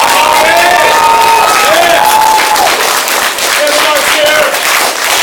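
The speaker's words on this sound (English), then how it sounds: "Let's give Bobby another big round of applause" Crowd at a family martial arts center belt ceremony applauding and cheering, a loud, dense wash of clapping with whoops and children's shouts mixed in, continuous throughout with voices rising over it.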